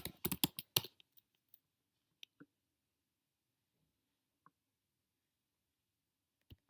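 Quiet typing on a computer keyboard: a quick flurry of clicking keystrokes at the start, then a few sparse, isolated taps spaced out over several seconds, close by in a quiet room.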